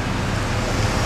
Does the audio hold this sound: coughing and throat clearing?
no